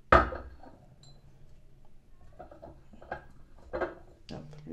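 Spoons clinking against glass and containers while oils are measured into a mixture: a sharp clink at the start, then scattered lighter taps and scrapes, close by amid quiet.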